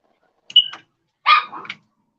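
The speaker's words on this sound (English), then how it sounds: "Oh, we got the big dog in the background." A big dog gives two short, separate barks somewhere in the background of an otherwise quiet room.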